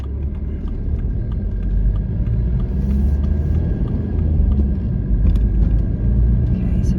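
A car drives along 30 mph town roads near mini roundabouts in Kings Lynn, giving a loud, steady engine and road rumble throughout.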